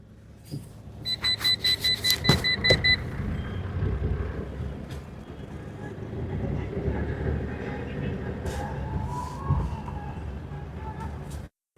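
A 2014 Mahindra vehicle is driven, its engine rumbling steadily up close after a burst of rhythmic electronic beeps at the start, with a voice speaking briefly over the running motor.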